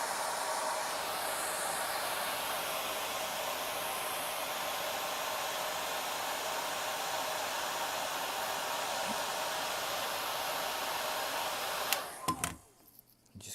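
A heat gun blows steadily on a carbon fibre decal being worked onto a curved surface, a constant close hiss and roar that runs unbroken for many seconds and then cuts off abruptly.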